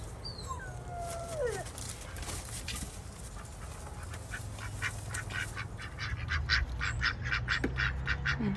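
A backyard flock of ducks quacks at moderate distance in scattered calls, with bursts of rapid, breathy panting-like noise building toward the end.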